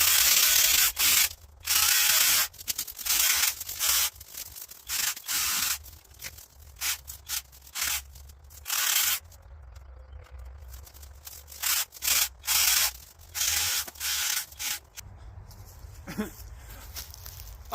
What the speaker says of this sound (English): Got a dead 2-inch here. Oh yeah, this thing is pimping.